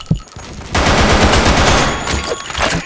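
Gunfire in the BlackShot shooter game, a single sharp shot followed by a dense, loud burst of rapid automatic fire that carries on for about two seconds.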